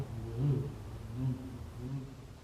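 Two people imitate an aeroplane flying backwards with their voices, producing low, wavering humming tones in three rising-and-falling swells, fairly faint.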